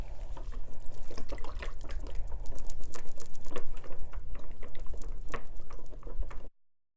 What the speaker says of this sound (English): I'm going to use the whisk to distribute it